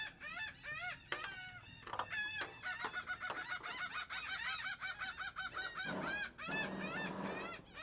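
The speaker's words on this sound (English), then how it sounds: "Boy, these seagulls." Flock of seagulls calling over an old dock, loud overlapping squawks and wailing cries in quick succession, near and continuous, with a burst of harsher squalling toward the end.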